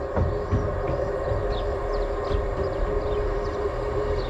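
A Class 158 diesel passenger train rumbling into a station with a steady droning engine and a sustained whining tone, continuous and fairly loud throughout.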